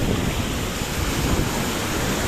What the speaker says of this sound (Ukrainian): Зараз покажу вам наскільки тут сильна хвиля